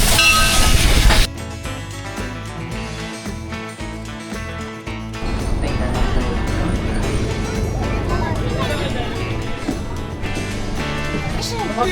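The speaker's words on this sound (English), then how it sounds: "I'm here for a real steam train." A steam train rumbling and clattering along the rails at a steady pace on a zig-zag mountain railway, loud and close, after a brief burst of louder noise at the start.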